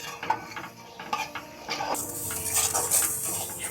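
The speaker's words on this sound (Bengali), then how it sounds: "সুজিটা আমি লো ফ্লেমে 4-5 মিনিট ভেজে নেব।" Semolina is stirred and roasted in ghee in a wok over a low flame, with repeated scraping strokes, a metal spoon clinking against the pan and a soft sizzle growing underneath.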